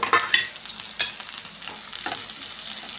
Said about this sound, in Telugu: అలాగే కట్ చేసుకున్న పచ్చిమిర్చి వేసుకుందాం.